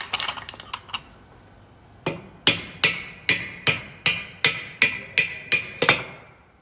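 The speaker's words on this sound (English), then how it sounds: "I do have a hammer here ready to very lightly tap it just to get it in place" A hammer lightly taps a part into place in a workshop during vehicle repair, about fifteen crisp, sharp taps, a few quick ones first and then a steady evenly spaced series, close and clear with no talking.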